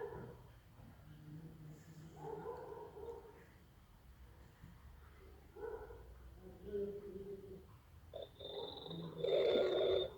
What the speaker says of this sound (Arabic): هذا صوت شخير بالتليفون.